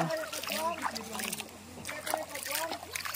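Feet wade and splash through cold stream water in a steady watery wash, close by, while people talk over it throughout.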